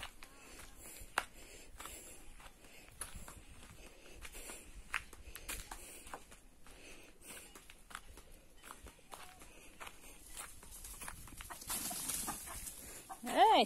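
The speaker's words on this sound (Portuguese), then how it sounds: "Eita, essa galinha braba." A hen on a farm lets out a short, sharp squawk near the end, after a long stretch of footsteps and rustling close by, with a faint low murmur underneath.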